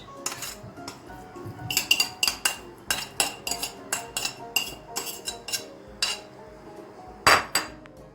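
A utensil stirs lahmacun filling of tomato, pepper and tomato paste in a bowl, making repeated sharp metallic clinks and scrapes in an uneven rhythm, close and fairly loud with brief pauses between strokes.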